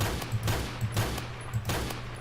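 P90 submachine gun fire in the video game Phantom Forces, heard as steady automatic bursts of sharp shots repeating at a regular pace with no talk over it.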